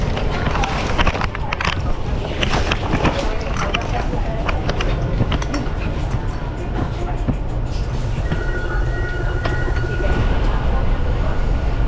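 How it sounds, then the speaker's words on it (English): A Spanish local passenger train rumbles steadily along the rails with a continuous roar and faint clatter, while people talk in the background. "Jump onto the train."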